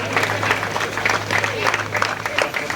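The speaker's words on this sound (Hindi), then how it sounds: "गोटे जोरदार कलताली हो जाऊ।" Applause from an audience at a prize distribution ceremony in Rayagada, a dense steady patter of many hands clapping continuously at close range, with a constant low hum underneath.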